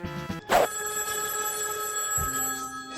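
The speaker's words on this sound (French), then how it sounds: "Le téléphone sonne." A telephone bell rings steadily and loudly near the mic in a James Bond Junior NES game scene, with one brief click-like burst early on and a sustained tonal ringing afterward, no talk over it.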